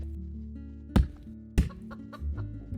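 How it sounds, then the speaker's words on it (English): The chicken axe in the Roblox game Lumber Tycoon 2 lets out two sharp squawking clucks as it is dropped, each a sudden burst over a low game background hum. "It makes a chicken noise every time you drop it."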